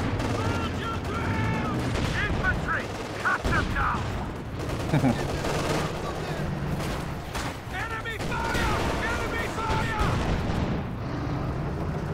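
Shell impact on a flak half-track in a tank strategy game, a dense battle mix of repeated gunfire and explosive booms running throughout under a commentator's steady talk.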